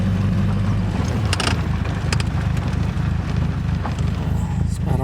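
A Triumph TR4 car being driven, its engine a steady low rumble throughout with road and cabin noise, plus a few brief clicks and rattles, close and continuous.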